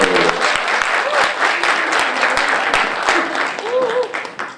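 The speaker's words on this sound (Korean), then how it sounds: "잠깐 여러분 박수로 한번 말씀드려요." Audience applause at a political talk concert in Korea, a dense, steady wash of clapping from a large crowd lasting the whole stretch, with a few voices and brief tonal calls poking through the noise.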